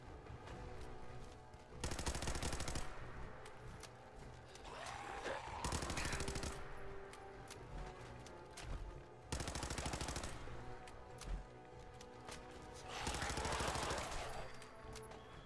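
Gunfire in Fallout 4 arrives in four loud blocks of rapid automatic shots separated by quieter stretches, close and harsh, with little talking during the bursts.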